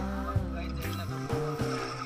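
A motorcycle ridden along a road, its engine droning steadily up close with shifting pitch as it revs, joined by rushing wind and some background voices.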